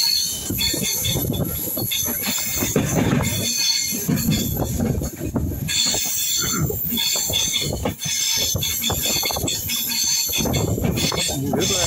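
Wheels of an Indian long-distance passenger train grinding and squealing round a curve, with steady rolling rumble and metallic hiss throughout, loud and close, as if recorded from on board.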